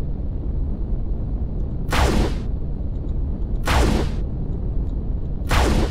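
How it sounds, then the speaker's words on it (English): A rocket launcher fires in the video game Empyrion Galactic Survival: three evenly spaced, whooshing blasts rise over a constant low engine-like drone. "That's a rocket launcher."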